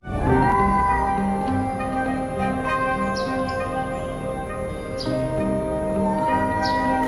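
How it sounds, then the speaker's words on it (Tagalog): A domestic cat meows loudly and close by, several drawn-out meows in a row over a steady tonal background. "Ang mga pusa o Felis catus bilang scientific name ay isang inaalagaan hayop buhat sa Felidae family."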